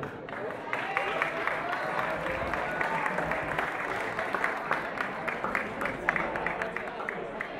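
Applause at a Parma supporters' club gathering in Traversetolo for Sandro Melli, a dense steady wash of clapping throughout with voices mixed in beneath.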